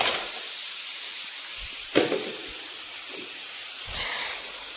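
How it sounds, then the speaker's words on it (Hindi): A kitchen pressure cooker releases steam in a steady, close, broadband hiss with a faint high whistle-like tone, punctuated by a couple of brief puffs and clunks. "ये अभी इसकी सिट्टी निकल गई है, तो खोल लेते हैं कुकर"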